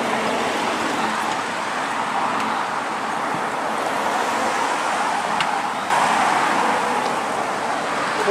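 Continuous traffic hiss from cars driving along a busy, narrow residential road, fairly steady with a slight surge near the end, no voices.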